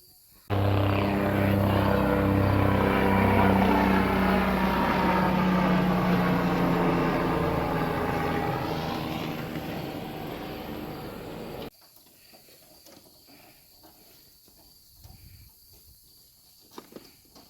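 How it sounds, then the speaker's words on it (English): A life flight medical helicopter's rotor drone passes overhead, loud and thrumming, gradually fading away before cutting off into quiet outdoor ambience on a homestead. "Whenever I see that helicopter, it's the life flight."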